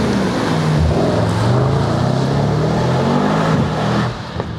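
Mercedes-AMG GT Brabus 800 accelerating hard, a loud sustained engine roar with revs climbing steadily, heard close and without talk.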